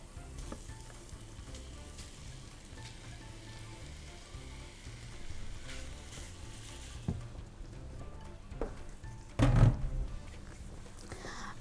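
Meat frying with onion in a pan gives a low, steady sizzle with a few stirring scrapes, then a louder burst of crackling near the end.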